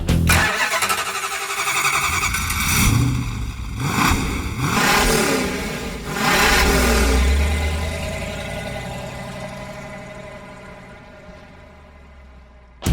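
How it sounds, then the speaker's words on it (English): A 707-horsepower supercharged Hellcat V8 in a converted Plymouth Road Runner Superbird starts and revs hard several times with deep roaring surges, then settles into a rumbling idle that slowly fades. "we put a 707 horsepower supercharged Hellcat engine in our Superbird, and it is crazy"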